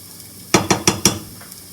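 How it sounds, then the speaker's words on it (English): A utensil knocks four quick times against a pan while onions and garlic cook in oil, over a faint steady sizzle. The sounds are close and crisp, with no talk. "you're just going to continuously stir your onions and garlic"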